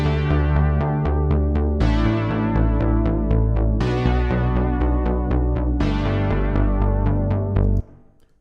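A synth bass line drives a song verse under chords and bright plucked notes, steady eighth-note rhythm, loud and full, ending abruptly.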